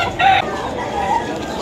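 A two-year-old yellow-legged rooster for sale at a Malabon market gives a short cluck over a steady hum of market noise, with faint voices in the background.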